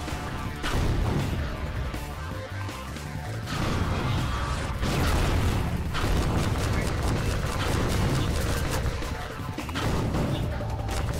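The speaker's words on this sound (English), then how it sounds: "Yeah, he's breaking down the walls already." Loud, continuous destruction in a shooter video game: repeated crashes, booms and clattering debris as an enemy breaks down walls, dense and chaotic across the whole stretch.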